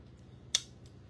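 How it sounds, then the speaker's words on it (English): A pair of scissors makes a single sharp, close snip while cutting a slit in a cardboard tissue box, a brief click standing out against faint room hum. "we're just going to cut that slit"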